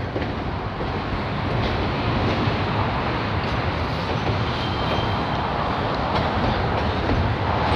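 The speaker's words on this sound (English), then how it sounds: "Especially while there is an active train." An active train runs along an electrified railway near a freeway in Detroit, a loud continuous rumble and rattle of wheels on rails that holds steady for several seconds, close by, with no talking.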